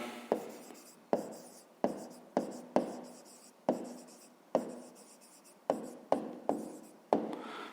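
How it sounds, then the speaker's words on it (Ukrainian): A pen writes on paper close up, a quick series of about a dozen sharp taps and short scratchy strokes in an uneven rhythm, quiet and alone. "а зараз записуємо відповідь"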